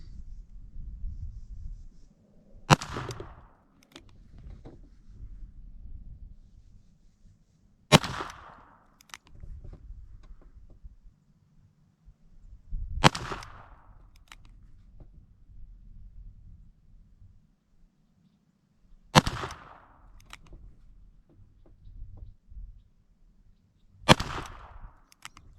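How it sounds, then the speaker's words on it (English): Ruger SP101 .22lr revolver fired in single action, five sharp, loud reports spaced about five seconds apart, each followed by quieter clicks and handling noise between shots. "I'm going to be shooting the SP101 in single action as well"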